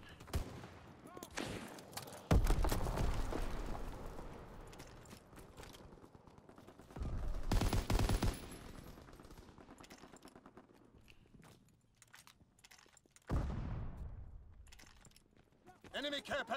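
Gunfire in Call of Duty WW2, with loud bursts around two, seven to eight and thirteen seconds over a busy game mix, while players talk throughout.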